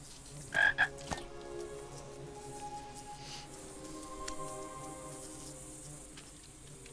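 A frog croaks in King's Quest Chapter 2, two short loud croaks near the start, followed by faint insect buzzing and quiet ambient game sounds.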